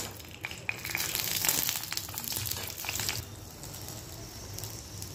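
Chillies and salt fry in a hot pan with little oil, a close, crackling sizzle with sharp pops early on that eases into a softer, steady hiss toward the end.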